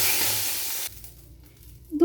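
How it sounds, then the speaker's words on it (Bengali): Two dried red chilies and a bay leaf drop into hot oil with a loud, bright sizzle that lasts under a second and then cuts off to near quiet, followed by a faint clink. "ওই তেলের মধ্যে 2টো শুকনো লঙ্কা দিয়ে দিলাম,"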